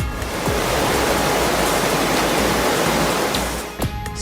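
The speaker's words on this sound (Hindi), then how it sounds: "सड़कों पर बहने लगी नदी।" Floodwater surges through city streets like a river, a loud, continuous roaring rush of water with churning and splashing, steady throughout and close by.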